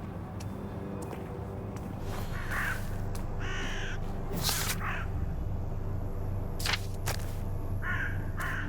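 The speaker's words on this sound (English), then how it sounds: "Did I just scare those birds by talking?" Crows caw in the Thief VR: Legacy of Shadow video game, several harsh calls spaced irregularly over a quiet ambient background, some near and some a little farther off.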